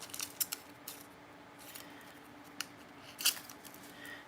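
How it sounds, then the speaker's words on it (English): Scissors snip a small piece off a paper sticker, several crisp close clicks scattered across the moment, with the sharpest cut landing near the end. "I'm going to cut off this little part"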